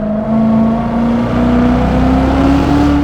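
A 650 hp 2019 Chevrolet Corvette C7 Z06 engine drones steadily from inside the car, its pitch slowly climbing as it revs, loud and close with no talking.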